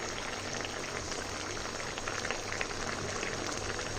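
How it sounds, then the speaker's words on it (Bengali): Raw mustard oil is poured over mixed vegetables, making a soft, continuous liquid trickle and bubbling hiss that stays close and even throughout. "এই পর্যায়ে আমি দিয়ে দিচ্ছি সামান্য একটু কাঁচা সর্ষের তেল"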